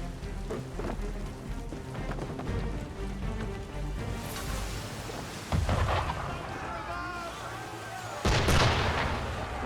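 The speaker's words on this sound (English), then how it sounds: "Why is he shooting at us?" Heavy ship cannon fire at sea in Assassin's Creed III, several booming blasts spaced across the stretch, with the loudest ones late, over a rainy, stormy ambience and background music.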